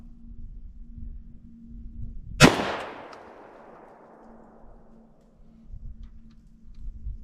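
An AR-12 shotgun fires once at a target during turkey-season sighting: a single loud, close blast with a long rolling echo that fades over a few seconds, set against quiet outdoor background.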